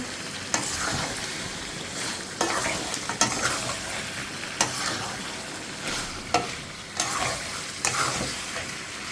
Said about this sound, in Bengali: মাংসটা ভালো করে একসাথে কষে নিচ্ছি করে সুন্দর করে কষে নিচ্ছি